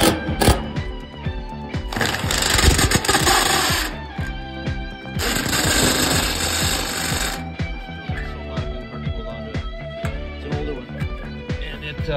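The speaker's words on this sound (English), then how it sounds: "I've decided to use a step bit, and I'm gonna make two large holes for each vent." A power drill with a step bit bores holes through a steel shipping container wall, a loud, rattling, hammering whine in two sustained bursts, separated by shorter grinding spurts and pauses.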